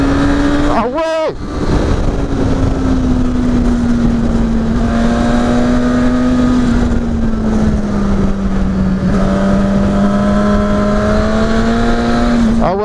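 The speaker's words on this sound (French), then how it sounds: "Au-dessus des 7000 tours, la bécane elle part, un truc de dingue." A 2019 Suzuki Katana motorcycle engine revs and pulls hard under acceleration, a loud continuous drone climbing and holding steady, with a brief sharp burst near the start.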